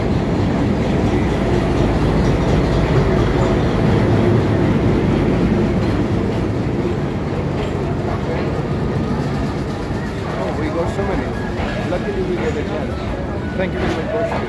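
A train rumbles along the rails on a foggy morning with a steady roar and faint clicking of wheels, heard up close and continuous, with voices talking underneath.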